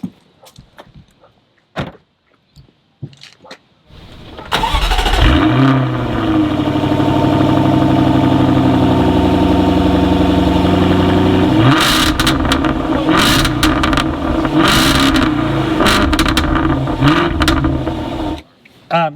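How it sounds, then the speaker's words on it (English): A stock supercharged V8 in a Jaguar F-Type cranks and fires into a loud, close idle after a few soft clicks, holds a steady rumble, then blips into sharp revs several times before shutting off. "This stock V8 supercharged car, to me, is one of the best sounding V8s out there."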